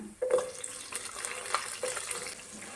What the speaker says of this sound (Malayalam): ചെറുതായി അരിഞ്ഞു വെച്ച ഇഞ്ചിയും വെളുത്തുള്ളിയും കൂടി ഇടാം ഒന്ന് ഇളക്കി ചെറുതായി ഒന്ന് വാട്ടിയെടുക്കാം